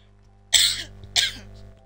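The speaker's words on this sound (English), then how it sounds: "Excuse the coughing." Two harsh coughs about half a second apart, close and fairly loud, with near silence between and after them and no talking.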